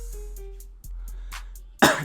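Over a low steady hum and a few soft clicks during NBA 2K20 gameplay, a single sharp, close cough bursts out at the end.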